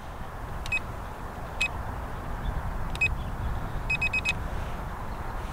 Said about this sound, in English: It was beeping a lot. That, I think, happens when you tilt the camera.